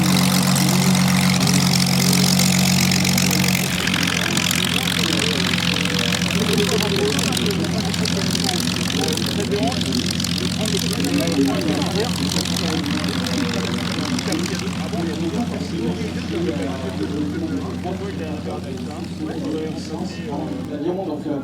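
Inline engine of a Curtiss P-40 Warhawk fighter running steadily at an air show, a loud continuous low drone with a throaty idle character, holding level throughout while a voice talks over it.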